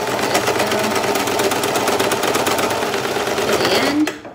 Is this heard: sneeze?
no